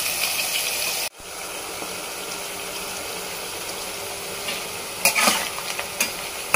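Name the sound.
bitter gourd frying in a pan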